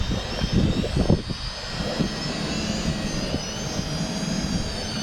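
A Snaptain SP660 drone flies in gusty wind outdoors, giving a steady high-pitched motor whine with wind buffeting rumbles that are strongest at the start.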